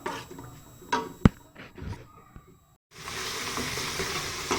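Green chilies and tomatoes frying in a pan for Pakistani daal maash, a soft sizzle with a sharp clink, stirring noises, a brief quiet gap, then a steady louder hiss of frying alone.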